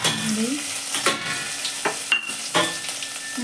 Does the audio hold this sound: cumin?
yes